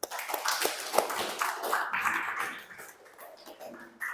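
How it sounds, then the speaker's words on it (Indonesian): A class applauding after a group presentation, scattered quick hand claps and taps in a small room that thin out and fade over a few seconds, with faint murmuring underneath. "Beri tepuk tangan dulu"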